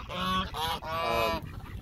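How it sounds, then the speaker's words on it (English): A male duck calls three times in quick succession, loud, nasal and honking, close by with no voices over it. "There's another duck over here, this male duck here."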